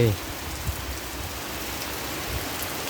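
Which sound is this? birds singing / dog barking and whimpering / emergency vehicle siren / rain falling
rain falling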